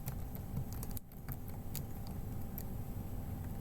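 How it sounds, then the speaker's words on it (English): Quick irregular clicks of typing on a computer keyboard during a box plot and quantile statistics tutorial, faint and close, over a low steady background hum. "I want to type in quantiles"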